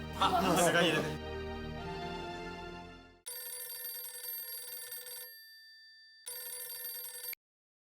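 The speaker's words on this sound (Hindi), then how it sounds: "मैं एक मिनट सोडी को फिर से फोन लगाता हूँ।" After a brief burst of voiced, tuneful sound, a telephone rings twice, each electronic ring separated by a short silence.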